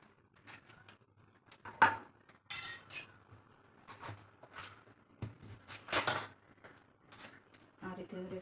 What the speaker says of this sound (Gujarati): કટ કરી દઈશું અને ચમચીથી એમાંથી આપણે કાઢી લઈશું